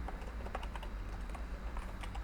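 Quick, continuous typing on a computer keyboard while entering a terminal command, a dense patter of close, light key clicks over a low background rumble.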